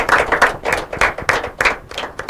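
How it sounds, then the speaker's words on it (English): Close, loud clapping from a quiz and debate competition audience, uneven bursts of hands rather than a dense roar, lasting a couple of seconds with no talk. "A round of applause for both of them."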